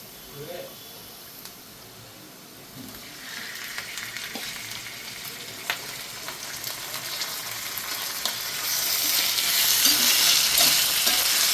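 Onions frying and sizzling in a pan, a steady hiss that swells louder toward the end, with faint stirring and clinks and a voice speaking in the background.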